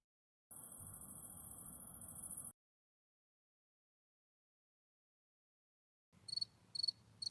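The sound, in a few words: cricket chirping sound effect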